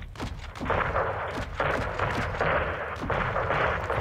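A video game airstrike in Call of Duty Modern Warfare 2 brings down a building, a sustained roar of heavy, repeated booming impacts and rumble, loud and dense with no talk over it.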